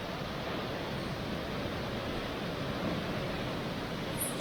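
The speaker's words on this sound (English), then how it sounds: "look at that lovely waterfalls, water flowing through those rocks and flowing down into the pool" A waterfall at Courtallam pours water over rocks into a pool, making a steady, dense rushing roar with no pauses, moderately loud and unchanging throughout.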